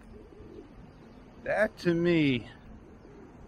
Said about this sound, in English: Which way did that bird go?